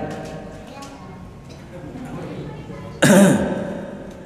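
A single loud throat clearing bursts out near the end, following a few seconds of quiet, murmuring room noise.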